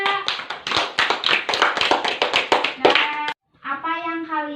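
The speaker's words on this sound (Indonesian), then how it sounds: "beri tepuk tangan untuk kelompok 2" A fourth-grade classroom claps for group 2: a quick run of sharp, rhythmic hand claps in unison for about three seconds, then a brief pause and a voice speaking.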